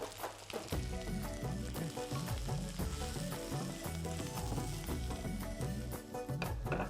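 Radish pieces with turmeric fry in a pan, a steady sizzle running under loud background music throughout.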